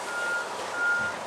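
A truck's reversing beeps sound twice, steady high-pitched tones over a low engine rumble and broad outdoor noise.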